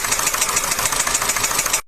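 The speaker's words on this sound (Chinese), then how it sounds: "发动机敲缸异响" An idling car engine with a cylinder-knocking fault gives a loud, close, evenly repeating rattling knock over a constant running hum, then cuts off abruptly at the end.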